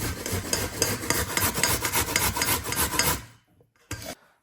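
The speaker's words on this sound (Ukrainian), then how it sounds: "далі натираємо морковку" Large carrots rubbed against a coarse grater in steady, fast rasping strokes, close and loud for about three seconds, then a pause and one final short stroke.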